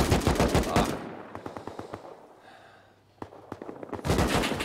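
AK rifle fire in the video game Rust crackles in rapid bursts, loud at first, then thinning to scattered single shots and a pause before another dense burst closes the clip.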